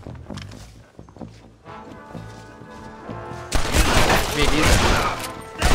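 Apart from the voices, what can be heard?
gunfire in a video game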